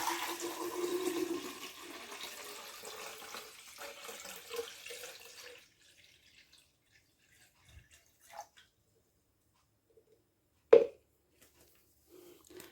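Salt water solution is poured into a hydrogen generator container, a steady watery pouring stream lasting about five seconds, followed by near silence with a few small knocks and one sharp clunk.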